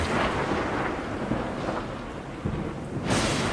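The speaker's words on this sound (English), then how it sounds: "They create the stage for some of nature's most spectacular shows of force. Bursts of lightning," Thunder from lightning bursts over the granite cliffs of Yosemite, a loud sustained rumble blended with heavy rain, swelling again toward the end with no voices.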